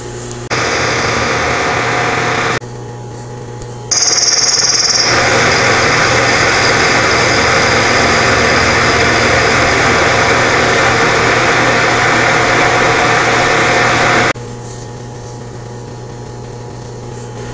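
A milling machine cutting away half of a D-bit engraving tool held in a vise, producing a loud, steady close mechanical drone with a brief high whine early on, then quieter after the cut ends.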